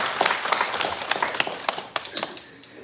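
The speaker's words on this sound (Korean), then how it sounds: "박수 한번 하겠습니다" A church congregation breaks into applause, a loose flurry of hand claps at moderate loudness that thins out and fades near the end.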